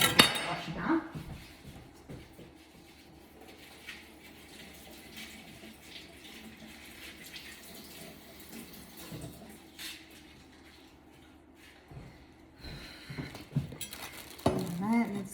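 Bok choy rinsed under a running kitchen tap, water splashing steadily with occasional clinks of dishes or utensils near the sink, a brief voice near the start and louder rustling handling at the end.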